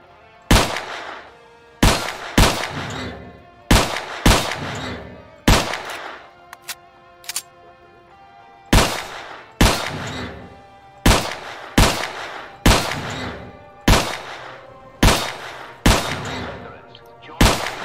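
Repeated gunfire in the video game S.T.A.L.K.E.R. Clear Sky: a dozen or so loud, sharp shots, some in quick pairs and others spaced a second or two apart, each with a short ringing tail, and no talking.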